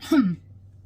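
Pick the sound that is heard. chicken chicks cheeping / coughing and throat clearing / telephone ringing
coughing and throat clearing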